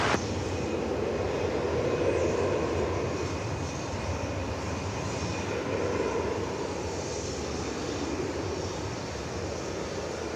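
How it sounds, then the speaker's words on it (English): UPS Boeing 747 arriving from Louisville to land at DFW Airport, a continuous heavy jet engine roar that holds steady throughout, broad and loud with a slight slow swell and fade. "UPS 747 coming in from Louisville on runway DFW"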